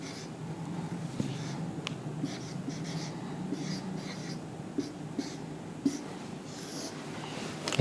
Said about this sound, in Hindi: अब मैं इसको लिखता हूं